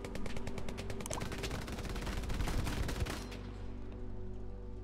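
Rapid semi-automatic M1 Garand rifle fire in the World War II shooter Hell Let Loose, a dense run of sharp, loud shots over the first three seconds, then fading ambient battlefield rumble.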